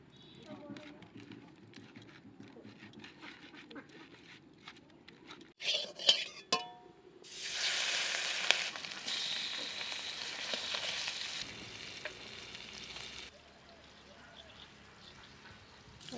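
Green chilies frying in a pan for a Bengali dish, a loud burst of sizzling that rises suddenly mid-clip and holds for several seconds before fading, with quieter pan and utensil clatter before it and talk around it.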